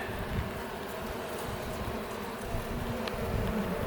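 Honeybees on a hive brood frame make a steady, dense buzzing hum that stays fairly loud and even throughout, with no talking.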